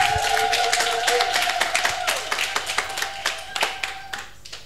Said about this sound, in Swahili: Piga makofi namna hii.